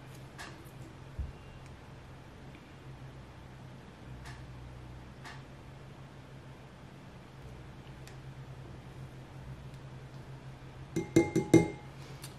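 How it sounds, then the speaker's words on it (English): A cosmetic solution being stirred in a glass container after drops of citric acid are added: soft faint ticks, then a quick cluster of bright glassy clinks near the end over a low steady hum. "I'm going to stir this around, make sure I get it well covered."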